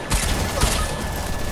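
Gunfire in a video game, a short, loud, dense burst of rapid shots that fills the moment with no talk over it.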